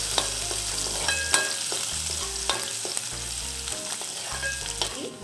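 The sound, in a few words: ginger and garlic frying in oil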